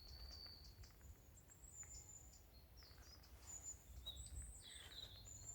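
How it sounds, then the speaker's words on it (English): Small birds sing and chirp beside a quiet little loch in November, faint scattered calls rising over a soft, still background hush. "We really like to come to this small loch because it's usually really quiet and you can hear the birds sing."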